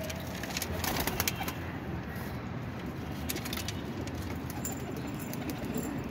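Pigeons kept in pairs cooing close by, soft repeated coos over a continuous rustle of background noise, with a faint vehicle hum in the distance.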